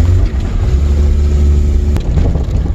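An old car driven at full throttle, a loud, low, continuous engine roar heard from close by with rough wind buffeting throughout.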